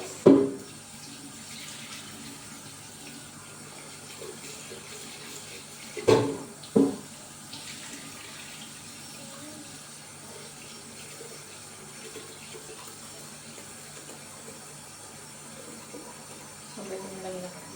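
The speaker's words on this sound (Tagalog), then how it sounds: "So, maghuhugas naman tayo ng rice." Rice rinsed by hand under a running kitchen tap, a steady hiss of water with a few louder splashes and clatters as the grains are swirled in the pot.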